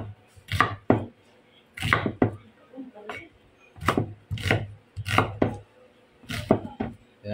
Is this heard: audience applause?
no